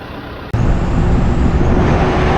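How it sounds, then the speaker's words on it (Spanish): Cars start moving along a dangerous mountain road, a loud, steady close rumble of engines and road noise that surges in abruptly after a brief quieter moment. "Empiezan ahora a circular los coches para aquí."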